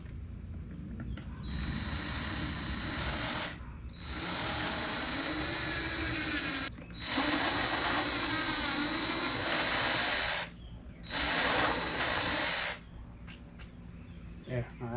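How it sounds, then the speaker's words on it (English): Power drill boring out a spot of ABS plastic on a 2022 Road Glide, a steady whining drone that runs near and loud in several long bursts with short pauses between them. "I may want to drill this out."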